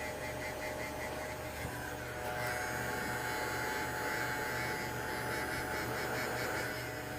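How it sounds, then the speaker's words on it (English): A heat gun on its lowest setting runs with a continuous, close, buzzing electric whir, with a slight shift in tone partway through and no talking. "You can take a heat gun."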